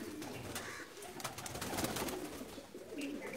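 A pair of Pakistani pigeons coos softly and steadily, low murmuring calls repeating close by with no voices over them.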